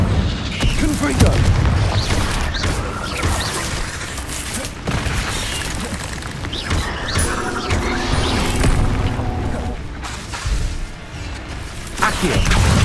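Confringo fire-blast spell from Hogwarts Legacy, booming explosive bursts repeating amid continuous loud game combat noise and rumbling impacts.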